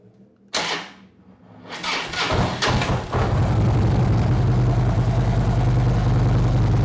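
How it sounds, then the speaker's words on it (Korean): A 2013 Harley-Davidson Street Glide touring bike fitted with a Supertrapp muffler starts up and settles into a loud, steady, deep exhaust rumble, with a few sharp blips before the idle holds close and constant. "일단 이 차량의 배기 사운드 한번 들어보고요"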